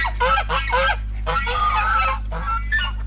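Geese honk loudly and close in a private park, several harsh bursts in quick succession over a low steady hum.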